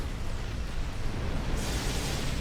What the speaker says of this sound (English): that was an interesting explosion, wasn't it?